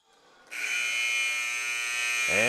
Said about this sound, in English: the buzzer you hear in the background means it's time for starting lineups